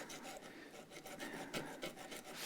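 Rasping rub of an old sanding block, cut from a former guitar neck, worked against a metal file during a Stratocaster re-fret; steady, close back-and-forth strokes with no talk.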